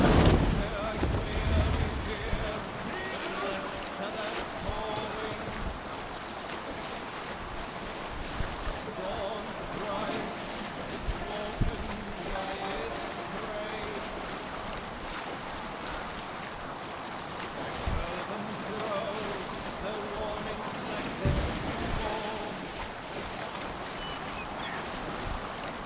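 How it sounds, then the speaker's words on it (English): Wind gusts and sea water wash around a sailing ship at sea in a raiding and missions video game on Xbox Series S, a steady broadband roar running throughout with occasional stronger surges and some voice chatter beneath. "Raise the mast! This wind would fill More the sail."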